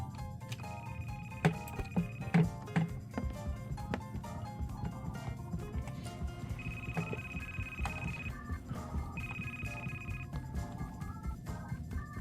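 A telephone rings inside the video game Burglin' Gnomes, with repeated electronic ring tones sounding over a busy game soundscape of clicks and background noise.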